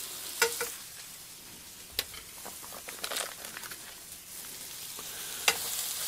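Flour is stirred into glassy onions sizzling in a pan, a soft steady frying hiss under a few scraping, clacking stirs of a spoon, close and fairly quiet with no talking.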